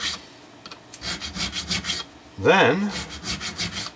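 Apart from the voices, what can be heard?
sanding Stratocaster guitar frets with 150 grit abrasive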